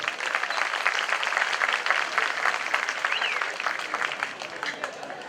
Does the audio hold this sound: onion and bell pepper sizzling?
no